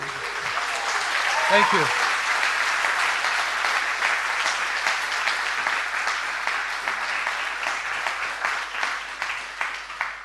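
Conference audience cheering, whooping and applauding for a speaker at an event: a loud, sustained wash of clapping with whoops rising over it, while a voice briefly speaks at the start.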